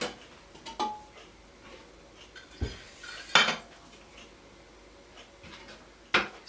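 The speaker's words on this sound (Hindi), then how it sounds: "जो है कोयला उठा करके पहले बर्तन में रखना" Hot coals set into a metal pot while cooking smoky daal kabab: sparse, sharp metallic clinks and taps, several separate knocks spread out over quiet, with no talking.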